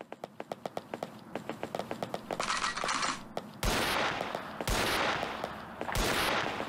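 Rapid gunshots from the video game Animal Village, a steady string of sharp pops building into heavier, louder blasts toward the end, with no talking.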